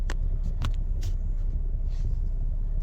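A 2022 Ford Explorer ST in sport mode gives a steady low cabin rumble of engine and road noise, marked by a few brief knocks, with no one speaking.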